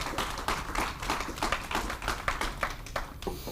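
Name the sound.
church congregation applauding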